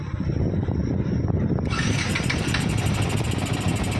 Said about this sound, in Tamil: வண்டி ஒரே தட்டில் வண்டி ஸ்டார்ட் ஆகிடுச்சு